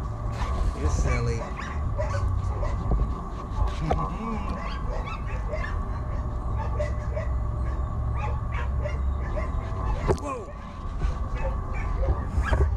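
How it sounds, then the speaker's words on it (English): Dogs play and run loose at a dog track, giving yips, whimpers and short barks close by, scattered through a busy outdoor background while a person talks over them. "These dogs do love to run."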